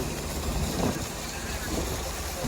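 Strong wind buffets a fishing boat at sea, a dense continuous roar of wind noise on the microphone with rough water beneath, loud and unbroken with no clear speech.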